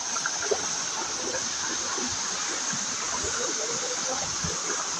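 Busay Falls in Babatngon, Leyte pours in a constant broad hiss of falling and rushing water, steady and close, with faint voices in the background.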